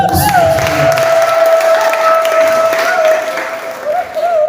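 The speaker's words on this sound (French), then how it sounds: "Alors, donne-lui des acclamations" A church congregation breaks into loud applause and cheering, a steady dense roar close by with a sustained tone running under it throughout.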